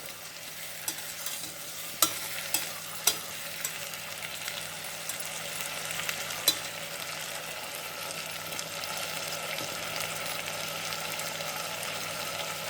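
Turkey berries (sundakkai) frying in a pan, a steady bright sizzle with a few light utensil taps and stirring scrapes, close and continuous with no talking.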